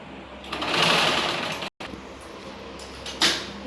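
A sewing machine stitches a lined blouse in two quick bursts separated by a brief pause, the needle's rapid whir close and clear.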